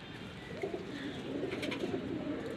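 Soft, low Teddy pigeon cooing repeats under a busy background hum, near and continuous, with no one speaking.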